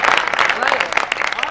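Audience applause at a Hindi poetry gathering, dense clapping at steady loudness throughout the short moment, with a voice speaking over it.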